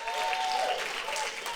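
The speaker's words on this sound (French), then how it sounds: "Est-ce qu'il y a des gens qui peuvent applaudir le roi des rois, le Seigneur des seigneurs" A church congregation applauds, a dense, continuous wash of clapping from many hands in a large room, steady and fairly loud across the whole moment.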